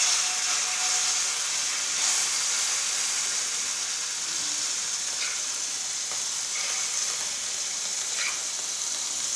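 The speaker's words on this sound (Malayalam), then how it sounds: "അതിലേക്ക് നമുക്ക് അരവ് പുരട്ടി വെച്ച മീനിൻ്റെ കഷ്ണങ്ങൾ ചേർത്ത് കൊടുക്കാം." Marinated netholi (kozhuva) fish pieces fry in hot coconut oil, giving a steady, bright sizzle and hiss with scattered small pops that runs unbroken throughout, with no voices.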